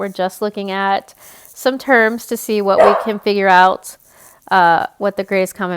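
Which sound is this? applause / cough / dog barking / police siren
dog barking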